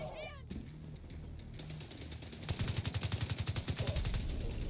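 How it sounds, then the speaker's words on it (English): Gunfire in The Division 2 rattles out in rapid automatic bursts, growing denser and louder in the second half, with game sounds and occasional voice tones mixed underneath. "Hey, you're getting shot at."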